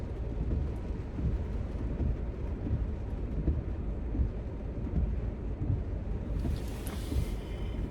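Steady outdoor rain hisses as a dense, even wash with rumbling gusts of wind through the whole stretch, continuous and fairly close, with no voices.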